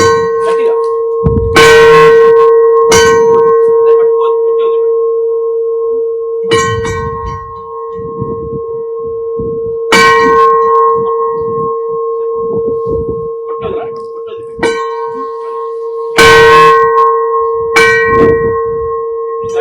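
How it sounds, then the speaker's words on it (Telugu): A metal bell is struck hard several times, each loud clang ringing out with a long sustained tone that decays slowly before the next strike, with brief bursts of voices and rustling in between. "ఘంటానాదం చేయడం జరిగింది"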